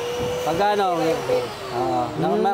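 A pressure washer spraying while being shown for air-conditioner cleaning, its motor droning steadily and loudly throughout while someone talks over it.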